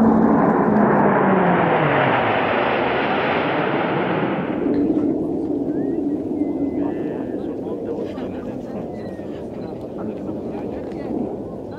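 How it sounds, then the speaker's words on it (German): An F-35A fighter jet roars past during an air force demonstration at Axalp in the Alps, a loud broadband blast that fades into a lingering rumble with wind noise. "unser zukünftiges Einsatzmittel Jet, der F-35 Alpha"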